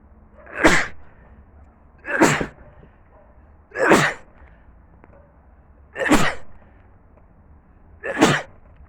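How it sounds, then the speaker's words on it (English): Five loud, close sneezes burst out at a steady pace, roughly one every couple of seconds, with quiet room noise between them and no talking. "I think I also know why I'm sneezing."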